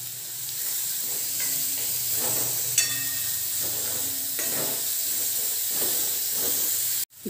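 Onions and garlic sauté in sesame oil for a tomato garlic spicy gravy, giving a close, steady sizzle with soft rhythmic stirring scrapes, then a sudden clatter and cut at the end.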